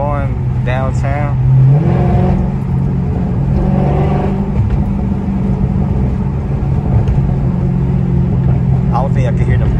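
Dodge SRT 392 V8 engine in track mode, driven downtown from inside the cabin; a loud low rumble that rises as the car accelerates, with someone talking over it near the start.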